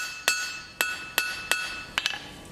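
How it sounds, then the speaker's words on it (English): A blacksmith's hammer strikes hot steel while forging a J-hook, five evenly spaced ringing blows followed by a quick double tap and a light bounce, close and clear with no talk. "I can angle my hammer slightly to spread that material where I need to go."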